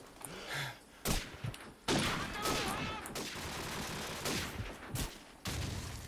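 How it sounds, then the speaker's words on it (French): Gunfire in Call of Duty 4, sharp loud bursts and single cracks separated by short gaps, with a faint voice underneath. "Il y a les balles, vous voyez même pas d'où elles arrivent, quoi."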